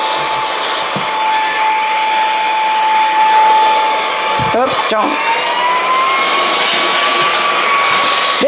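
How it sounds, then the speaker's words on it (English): A small Z-Star vacuum cleaner runs with a steady high-pitched whine and airy roar close by, the pitch shifting slightly midway, while people talk briefly over it. "This is the little Z-Star vacuum, you guys."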